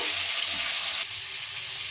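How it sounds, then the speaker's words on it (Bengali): Chicken pieces for a yogurt chicken dish fry in hot oil, a loud, dense, steady sizzle close up that softens slightly halfway through, with no talking. "এইভাবে একটু লাল লাল করে ভেজে নেব।"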